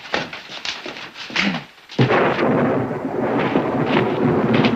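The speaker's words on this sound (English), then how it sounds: "Wrong time of the year for a storm." Thunder rumbles during a storm, a loud deep roll breaking in after a brief hush and sustaining with heavy, noisy texture, preceded by scattered softer rumbling.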